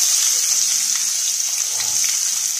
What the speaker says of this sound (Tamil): காயப்பொடி போட்டு பொரிஞ்சதும் வெங்காயம் போட்டுக்கலாம்